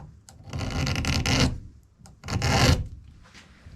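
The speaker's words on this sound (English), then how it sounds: "I'm cutting this way. They call that draw filing." A hand file rasps across a metal part in two long draw-filing strokes, close and fairly quiet, with short pauses between strokes and no talk.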